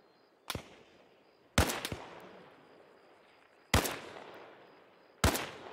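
Four sharp, loud rifle cracks from snipers in Arma Reforger, spaced unevenly, each followed by a long rolling echo that fades out across open terrain.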